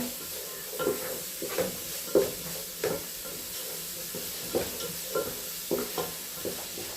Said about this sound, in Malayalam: 3 ഉള്ളി കൂടെ ഇതിലിട്ടിട്ട് നല്ലോണം അത് വഴറ്റിയെടുക്കണം